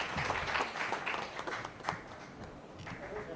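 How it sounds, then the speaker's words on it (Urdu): An audience applauds to welcome a speaker at a formal event, a sustained, fairly quiet wash of many hands clapping without talk over it. "میں بہت ہی پرزور آپ کی تالیوں میں ویلکم کرتا ہوں D G L D A جناب طاہر فاروق صاحب کو."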